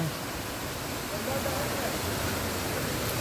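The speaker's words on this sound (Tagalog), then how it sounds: "Mother Falls." Waterfall at Abungan Falls in Dingalan, Aurora, roaring as a steady, dense broadband rush that fills the whole clip at close range, with no break or change in level.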